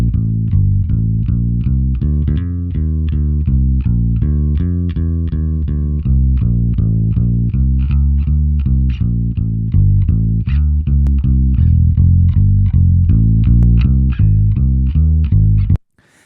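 Loud rhythmic music with heavy low end and regular punchy hits plays through a Crane Song Peacock switched to its silver setting for gentle coloration, running steadily before stopping abruptly at the end.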